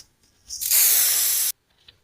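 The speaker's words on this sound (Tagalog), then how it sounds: "After natin ma-shake yung Mars contact cleaner, spray na natin dito sa ating hazard switch." Mars contact cleaner sprays onto a vehicle's hazard switch in one sharp, loud hiss lasting under a second, close up, followed by faint clicks.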